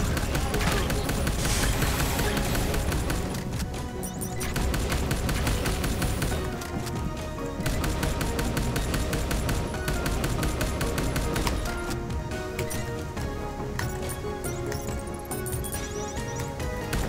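Neon Chrome gunfire: dense, rapid shots rattling steadily over loud, busy game music and effects throughout, with no clear pauses.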